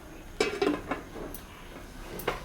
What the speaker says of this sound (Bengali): এখন আমি ঢাকাটা দিয়ে দেব।